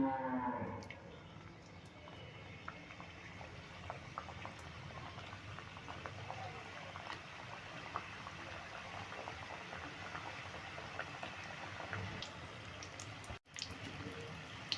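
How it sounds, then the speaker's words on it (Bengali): Pieces of crispy snack dough fry in medium-hot oil, giving a steady, even bubbling sizzle that runs without a break and stays moderately loud, with no talking over it. "এবার আমি আঁচটা মিডিয়ামে রেখে এগুলো ভেজে নেব এবার একে একে আমি দিয়ে দিচ্ছি"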